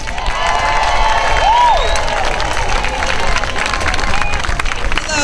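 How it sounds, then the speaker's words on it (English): Loud applause and cheering from a large crowd, dense clapping with scattered shouts and a whistle, sustained throughout. "Give her thunderous applause."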